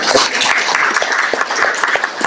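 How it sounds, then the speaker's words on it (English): Audience applause at a 50th anniversary event in a community and senior center hall, a short burst of close, loud clapping from a small crowd lasting about two seconds. "A little round of applause for this."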